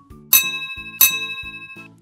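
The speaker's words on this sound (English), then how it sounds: "You ring a bell." A bell rung to call a dog for food strikes twice with bright, ringing tones about 0.7 seconds apart over a soft rhythmic background.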